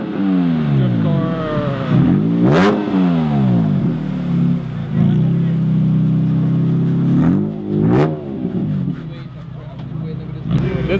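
Engine of a drift car at a car meet, a steady loud rumble that revs up sharply twice, with people talking over it throughout.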